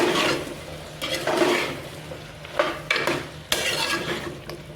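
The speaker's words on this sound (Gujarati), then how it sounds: "આપણે મિક્સ કરી નાખશું સારી રીતે" Cut tindora is stirred into oil in a cooking pan. A metal utensil scrapes and clinks against the pan in uneven strokes, with a soft sizzle underneath and a few sharper knocks near the end.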